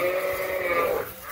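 Sheep and lambs bleating on a farm while being sorted, one sustained wavering bleat close by over a low background of other animals.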